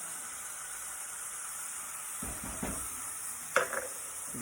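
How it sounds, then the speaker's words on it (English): Ground venison mix for stuffed deer loin frying in a pan as Worcestershire sauce goes in, a steady close sizzle with a few scraping stirs and a sharp clink of utensil against the pan near the end. "I'm going to go ahead and add our Worcestershire sauce."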